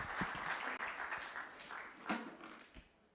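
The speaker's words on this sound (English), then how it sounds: "A big round of applause for him" An audience applauds an award recipient at a children's champion awards ceremony, a soft, steady spread of clapping with a few sharper claps standing out, fairly faint and distant.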